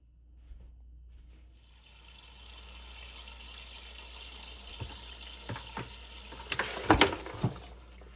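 Tap water runs to rinse acorns, rising from a quiet start into a steady stream with splashes and a few clattering knocks near the end.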